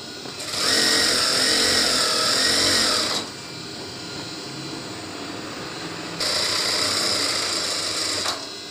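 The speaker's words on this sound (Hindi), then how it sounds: "इसको इस तरीके से सिलाई करना है" Sewing machine stitching a trouser seam, running steady and loud in two long bursts with a quieter pause between them and no talk.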